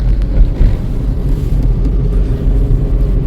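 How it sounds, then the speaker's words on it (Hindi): Vehicles passing beneath a road bridge over the Son river, a steady low rumble of traffic with wind buffeting the microphone, no voices. "अभी भी दिखाई दे रहा होगा कि नीचे गाड़ियाँ जा रही हैं।"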